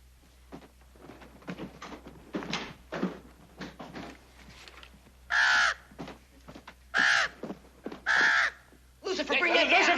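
A crow caws loudly several times in separate harsh bursts, with quieter clattering and indistinct knocking between the calls over a low hum.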